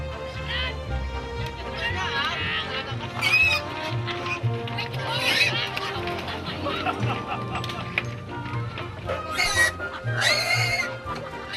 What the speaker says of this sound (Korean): 한바탕 실랑이를 벌인 후에야 돼지들이 움직이기 시작했는데요.